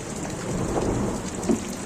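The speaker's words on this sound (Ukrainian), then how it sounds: "Можете почути, як дуже сильно гримить." Thunder rumbling through a November rainstorm in Poltava region, Ukraine: a low continuous roll over steady rain, with a slightly sharper crack near the end, fairly distant and moderate in level.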